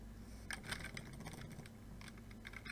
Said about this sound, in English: Sorry if you can hear the keys smashing in the background.